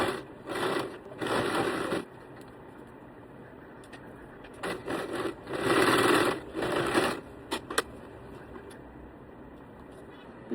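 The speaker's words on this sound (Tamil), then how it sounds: "இப்போ நம்ம இந்த சைடு ரெண்டுத்தையும் அந்த பெல்ட்டை வச்சு கரெக்டாக அலைன் பண்ணி தைச்சு முடிச்சுடுவோம்" Sewing machine stitching a decorative belt onto a frock in bursts of steady whirring, each run a second or two long with pauses between, loud and close.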